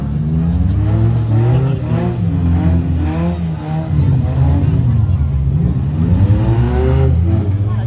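Demolition derby cars, including a front-wheel-drive cruiser with no rubber on the right rear, rev and grind loudly and continuously, engine drone filling the clip under an announcer's steady commentary.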